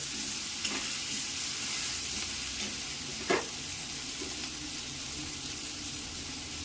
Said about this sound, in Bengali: যেগুলোকে ভালো করে একটু কষিয়ে নিতে থাকবো যতক্ষণ পর্যন্ত না এই মশলা থেকে কাঁচা গন্ধটা চলে যাচ্ছে